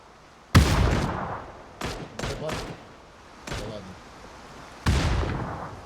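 Several sharp gunshots crack at irregular intervals in the video game PUBG, a couple of them in quick succession, with quieter stretches between.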